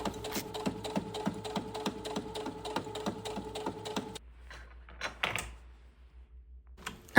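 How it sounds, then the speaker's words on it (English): A sewing machine top-stitches a collar in steady, rapid needle strokes for about four seconds, then stops, leaving a few soft handling clicks and rustles. "take this to the sewing machine and sew it at 1/2 inch"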